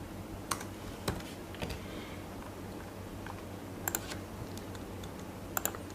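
Keys on a computer keyboard clack in a quiet room, a handful of scattered single presses and quick pairs spread across several seconds, soft and close with no talking.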